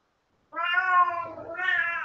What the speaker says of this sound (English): Oh, now do you want out, Cat?